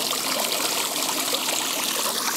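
Fountain water splashes and trickles in a steady, close, continuous stream for the whole stretch, with no voices over it.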